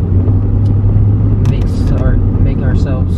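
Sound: C6 Corvette engine accelerating

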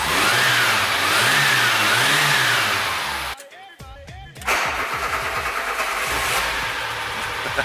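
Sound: old barn-find car engine revving

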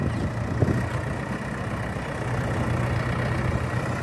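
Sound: 30-year-old tractor engine running

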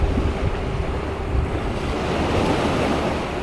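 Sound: wind blowing near the sea

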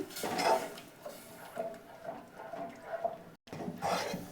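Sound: mixing boiled milk in a pan

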